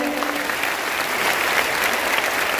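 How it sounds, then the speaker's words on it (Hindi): A crowd at a Hindi religious katha gathering claps loudly and steadily in welcome, a dense, even wash of applause that holds for the whole stretch with no voices over it. "बस जोरदार ताली बजाकर स्वागत करें।"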